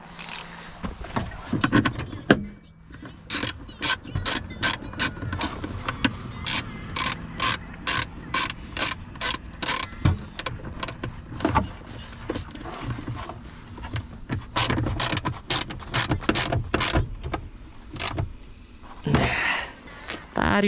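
Ratchet wrench with a 12 mm socket working on a car's electrics, giving runs of quick, sharp clicking strokes in bursts with short pauses, close and fairly loud, with brief talk and clatter in between.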